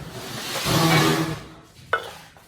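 Food sizzles loudly in hot oil in a pan as something is stirred through it, the hiss swelling then fading, followed by a brief scrape.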